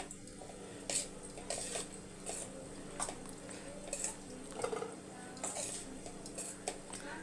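Metal spoon clinking and scraping against a metal vessel while tamarind rice is mixed, soft repeated taps and scrapes at an uneven rhythm, fairly quiet and close.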